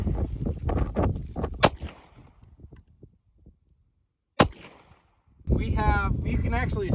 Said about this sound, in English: I'm going to shoot it single action first,